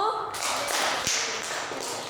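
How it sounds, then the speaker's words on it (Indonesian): A classroom group applauds with brief clapping and taps, fairly close, mixed with some murmuring voices. "Tepuk tangan untuk usaha dari kelompok 1"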